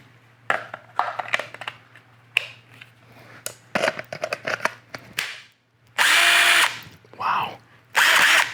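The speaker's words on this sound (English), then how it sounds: "Can we run PowerStack on this older DeWalt tool?" An older DeWalt rotary hammer running on a PowerStack battery gives loud, bright bursts of whirring and hammering, starting and stopping in short runs, with brief clicks and handling noise between them and a steady hum beneath.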